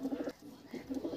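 Pigeons kept for sale cooing softly, a low throaty burble repeated in two short phrases, close by and fairly quiet.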